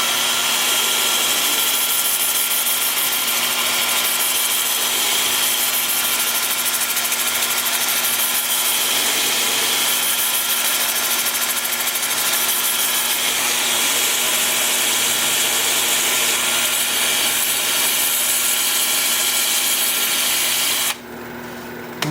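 Steady, continuous whir of a power sander with a 2-inch disc working an olive wood turned dish, loud and close, running unbroken with no talk until it cuts off near the end.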